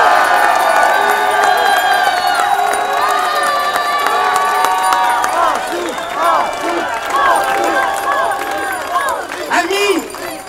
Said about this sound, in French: Je vous demande de faire un triomphe d'applaudissements pour Francis Lalanne